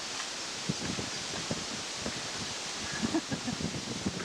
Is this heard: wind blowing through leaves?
yes